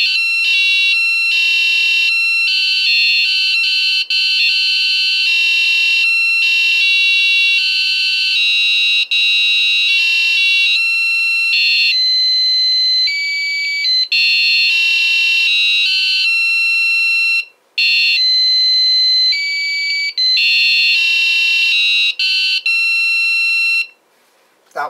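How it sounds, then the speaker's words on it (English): A small beeper on an LCD 12864 controller board plays a tune as a loud, shrill run of electronic tones, note after note with brief gaps, alone without talk. "So that's just using a like beeper that is on this LCD unit."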